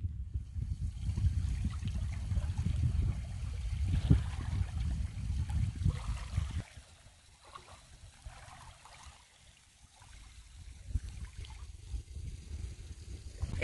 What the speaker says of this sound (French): Honnêtement, Caroline, si j'habitais dans la région, je serais ici à tous les jours pour juste écouter le son des vagues.